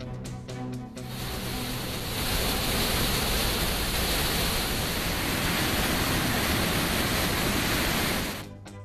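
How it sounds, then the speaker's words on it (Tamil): Water thunders down the Hogenakkal waterfalls during heavy flooding, a loud, steady broadband roar that swells after the first second and holds constant before easing off at the end. "ஒகேனக்கலில் அருவிகளில் ஆர்ப்பரித்து கொட்டுகிறது தண்ணீர்."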